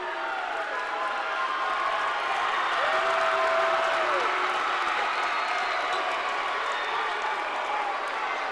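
A crowd at an Ellinwood Eagles versus Sterling Black Bears high school basketball game rising to cheer and applaud, a loud, sustained wash of clapping and shouting with a whistle-like tone near the middle.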